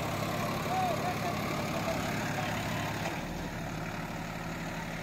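A 2023 Sonalika DI 35 tractor runs steadily at around 1500 RPM while driving a 7-foot KSD rotavator through a field, its engine a continuous near drone with faint voices under it.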